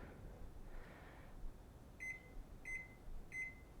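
An oven timer gives three short, clear electronic beeps at even intervals, following a faint button press, in a quiet kitchen.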